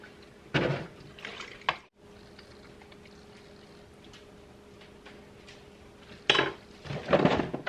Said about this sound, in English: Rinse this out.